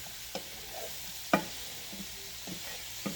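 Potatoes sizzle faintly in a pan while a utensil stirs them, giving a few soft scraping clicks over a quiet background hiss.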